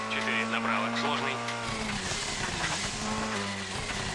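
Rally car engine droning steadily from inside the cabin in the Colin McRae Rally 2.0 video game, a constant loud hum with a gear change partway through and a voice speaking over it.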